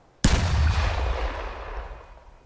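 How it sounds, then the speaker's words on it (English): A single loud blast of a shoulder-fired rocket launcher in the military shooter game Arma 3, a sharp onset followed by a long rumbling, decaying roar. "I'm firing. Fire away. The back blast is clear."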